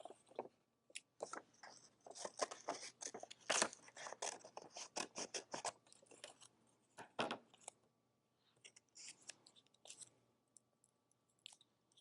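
Scissors snip through wrapping paper to cut out printed puppy shapes for a collage, giving a quick run of close, crisp, irregular cuts and rustles that thin out toward the end, with no talking.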